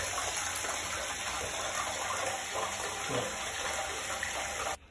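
Water runs steadily in a household setting, a continuous hissing gush at moderate level that stops abruptly at the very end.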